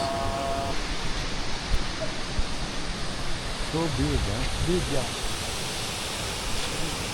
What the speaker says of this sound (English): overlooking the beautiful waterfalls.